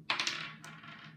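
A die tossed onto a hard surface, giving a few quick clattering clicks that bounce and then settle into a brief rattle, close and fairly clear, with no speech.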